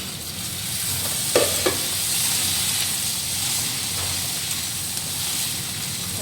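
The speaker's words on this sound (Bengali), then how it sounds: "এবার টমেটোগুলো দিয়ে দেবো," Tomatoes and capsicum fry in a pan with a steady, close sizzle and hiss, broken by a couple of brief scraping stirs early on, with no one speaking.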